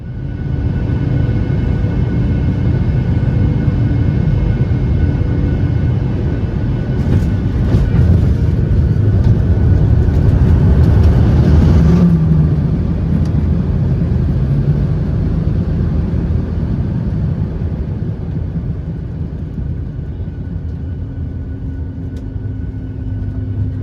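A Bonza budget airline passenger jet on short final and landing in Australia, heard from inside the cabin as a loud, steady low engine and airflow roar that swells slightly midway and then eases.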